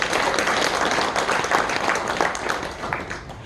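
An assembly at the founding meeting of an anti-Japanese independence activists' memorial association, held in a hall of the national provisional government memorial museum, gives sustained applause, a loud continuous crowd of clapping hands that tapers slightly at the end.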